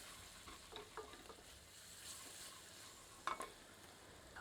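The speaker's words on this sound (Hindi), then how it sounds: "एक बार अच्छी तरह कड़छी चलाते हैं।" Snail masala sizzles faintly in a pan while a ladle stirs it, soft scraping strokes and one sharper clink near the end over a quiet hiss.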